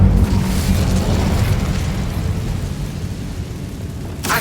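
A roaring, rumbling whoosh of an Incendio fire spell cast in the wizarding game Hogwarts Legacy, loud and sustained for several seconds before a brief sharp crackle at the end, with no talking over it.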